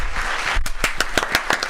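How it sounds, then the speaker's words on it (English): An audience applauds security staff at a live debate event, with sharp, sparse claps close by building into a ragged round over a low crowd murmur. "Can we get a round of applause for them for doing such a fantastic job?"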